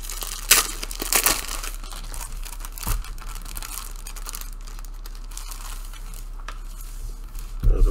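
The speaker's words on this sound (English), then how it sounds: "Unwrap it here." A comic book is unwrapped from its plastic package: close crinkling and tearing of plastic in a few sharp bursts early on, then quieter rustling and handling throughout.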